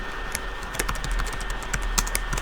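Quick bursts of keystrokes on a computer keyboard as text goes into a box in a design program, close and clicky with an uneven rhythm and no talking.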